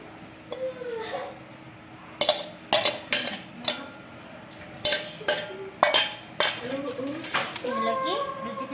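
Mint chutney pounded by hand in a stone mortar, giving irregular close knocks and thuds at a moderate pace while someone talks over the work.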